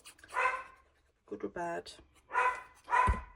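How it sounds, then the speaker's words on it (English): A pet dog barks a few times in short bursts while eager to play, close to the mic, with a person talking around the barks. "my dog seems to think it's time to play"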